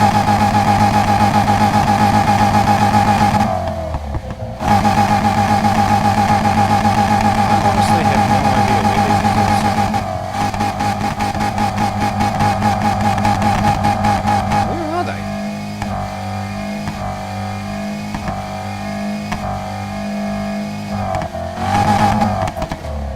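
A muscle car's twin exhausts in the video game NFS Heat, a loud steady engine drone with short revving bursts and changes in pitch, a brief cut near the start, and someone talking over it.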